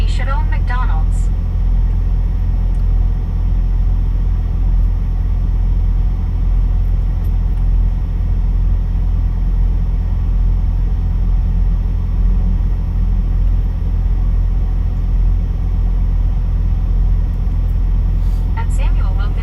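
Inside the cab of a moving Kenworth semi truck, a steady low engine and road rumble drones evenly throughout, close and loud, with no clear voices.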